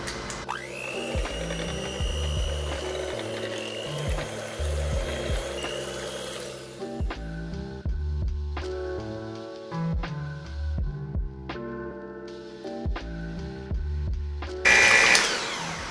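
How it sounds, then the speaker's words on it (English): A blender purees a vegetable soup with a high, whining motor roar for several seconds. It then drops to lower churning with intermittent knocks and clatter. "It's the final step, to blend."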